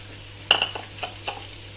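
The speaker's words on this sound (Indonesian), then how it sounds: "Kita goreng dulu bawang merah, bawang putihnya." Shallots and garlic frying in a pan give a soft sizzle with a few sharp clinks of a utensil against the pan, close, under a steady low hum.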